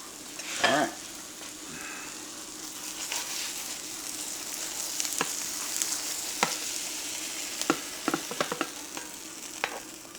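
An egg omelette fries in a pan with a steady loud sizzle throughout, and a spatula scrapes and taps the pan now and then.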